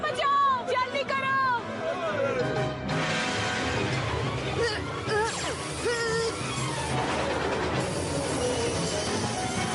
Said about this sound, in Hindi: ट्रेन का ब्रेक फेल है